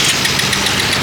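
A motorcycle engine idles steadily up close, a loud, even mechanical rumble with a slight knocking vibration and no voices.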